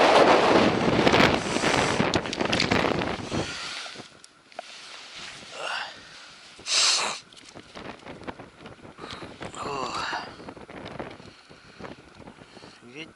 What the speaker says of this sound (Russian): Ветер холодный, блин, мокрый весь,